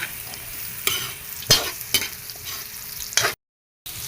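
Onion and garlic sizzle in a pan while green papaya is added, with bursts of stirring and scraping over a steady frying hiss, up close, then a brief cut to silence.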